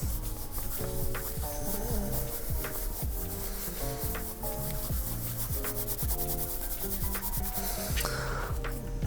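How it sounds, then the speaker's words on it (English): Plug cut pipe tobacco flakes are rubbed out by hand, producing a close, continuous dry rustling and scraping with a steady rubbing rhythm and no talk. "Personally, I like to rub them out."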